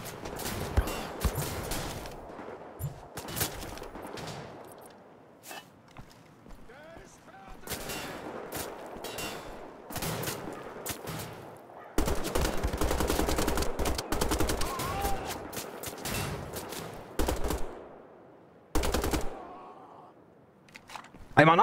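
Gunfire in Wolfenstein The Old Blood, sharp repeated shots and automatic bursts in loud clusters separated by quieter pauses, with occasional talk in between.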